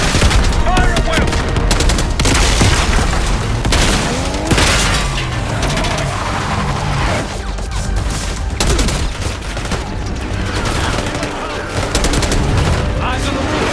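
Call of Duty: Black Ops 6 battle gunfire: relentless automatic fire, cracking shots and booming blasts layered together at high volume, with voices shouting faintly under the din.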